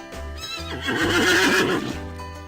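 A horse whinnies loudly and up close, a single shaky neigh swelling in the middle and tapering off, with a low steady hum underneath.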